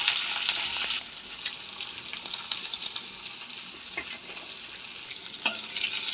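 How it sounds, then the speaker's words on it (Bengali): Sliced onions fry in hot oil for birista, a steady broadband sizzle with occasional crackles and pops, louder in the first second and then continuing evenly without speech. "এখানে বেরেস্তার জন্য ভাজতে দিয়েছি পেঁয়াজ"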